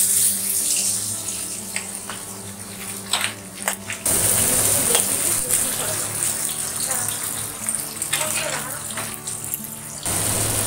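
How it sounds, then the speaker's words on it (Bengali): Pabda fish slipped into hot mustard oil in a pan fry with a steady, dense sizzle and hiss, spiked by a few brief crackles and clatters. "তেল গরম হয়ে গেছে, এবার আমি মাছগুলো আস্তে আস্তে মধ্যে ছেড়ে দেবো।"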